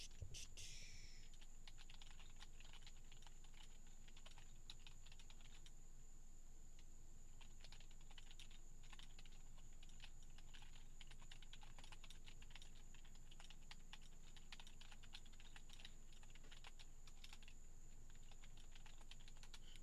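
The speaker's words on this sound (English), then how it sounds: "I'm just typing this real quick" Quiet, steady typing on a computer keyboard, rapid clicky keystrokes continuing throughout over a faint background hum.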